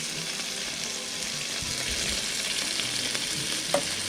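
Thick high-quality bacon frying flat in a pan, crackling and sizzling steadily up close, with a small clink near the end.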